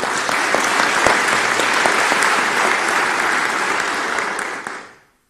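An audience in a hall applauds fellow travellers at a Turkish assembly meeting, sustained loud clapping with sharp individual claps standing out, fading away at the end.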